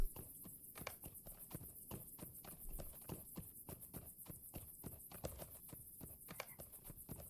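Horses in The Lord of the Rings Online clip-clop at a steady trot, a quick, even run of hollow hoof knocks, clear and close with no talk.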